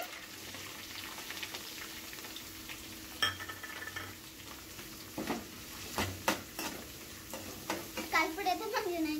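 Onions sizzle softly in a pan for chicken curry while being stirred, with scraping and clinking spoon-on-pan sounds growing busier toward the end, amid faint background voices.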